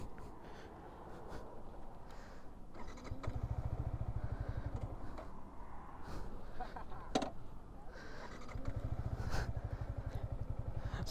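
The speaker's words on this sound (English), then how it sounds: "So I just started the bike" A Yamaha R15M motorcycle engine starting: after a few quiet seconds it fires into a low, rapid, pulsing idle that stays fairly faint and steady, with occasional clicks and light clatter nearby.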